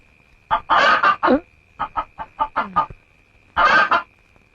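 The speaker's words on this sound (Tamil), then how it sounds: "கோழி." A chicken clucking close by, bursts of loud squawking calls broken by a quick run of short clucks, over a faint steady hum.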